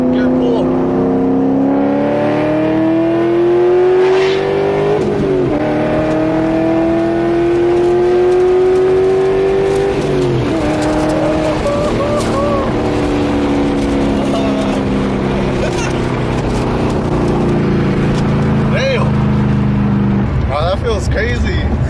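A Chevrolet C5 Corvette fitted with a Texas Speed cam accelerates hard through second gear, its engine note rising steadily and loudly from inside the car, with a brief shift break around the middle and voices talking over it.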